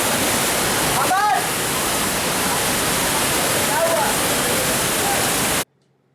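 Steady, powerful roar of Banjhakri Falls near Gangtok, a fast-flowing waterfall, with a couple of brief chirps above the rush before it cuts to silence at the end.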